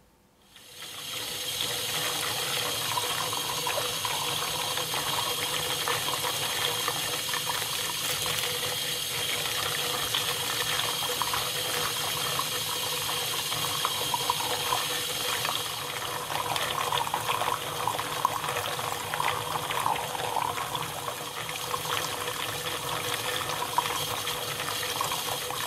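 Water jet pouring steadily into a bowl of pumpkin seeds, a continuous loud gushing rush with no breaks for the whole stretch.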